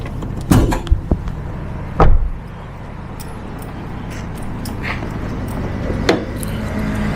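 A used car's door is handled at a second-hand dealer: a couple of solid thumps and clunks close by, followed by a dull slam, then quieter handling over steady background hum.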